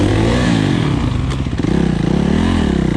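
A Suzuki RMX450Z dirt bike engine revs loud and close, its rough throbbing roar rising and falling over a few seconds with some clatter mixed in.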